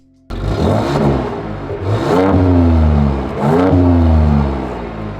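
A Ford Ranger Raptor pickup's engine starts up and revs twice in quiet exhaust mode, the exhaust note rising and falling in a fairly subdued, low rumble.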